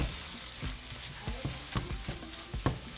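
Chicken sizzles in a pan with a low, crackling fry, punctuated by a series of soft scraping stirs at irregular intervals, fairly quiet and close.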